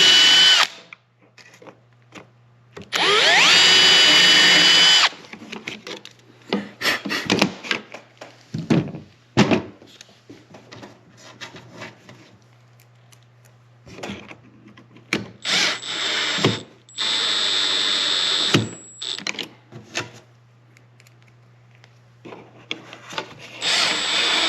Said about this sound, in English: I also try to drill as high up as I can in this circle.